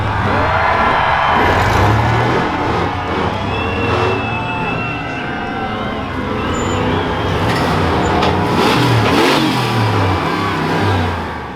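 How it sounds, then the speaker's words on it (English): A hardcore off-road buggy with a four-cylinder engine revs hard at an island obstacle-course competition, a rough, continuous roar that rises and falls over crowd noise. "It sounds suspiciously like a 22RE. It's definitely a 4-cylinder"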